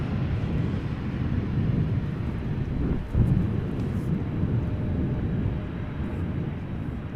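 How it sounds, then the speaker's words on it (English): Airliner touching down at Amsterdam Schiphol in gusty crosswinds with reverse thrust engaged: a loud, steady jet roar blended with wind buffeting, swelling briefly midway, with no talk. "both a wheelie and a little bit of reverse thrust there"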